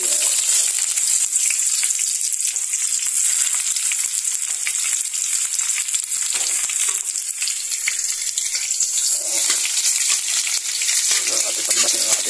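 Garlic and onion fry in a pan for ginisang petsay with tofu, giving a loud, continuous, close sizzle that holds steady throughout, broken now and then by faint stirring scrapes, with no talking.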